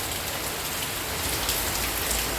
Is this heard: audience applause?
no